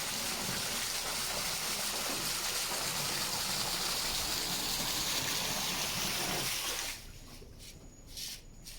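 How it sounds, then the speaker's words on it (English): A small waterfall pours into a residential swimming pool in Lawson Rock, Roatan, a steady, close, broadband rush of falling water that runs unbroken before dropping to a quieter trickle near the end. "And of course, we have a little waterfall."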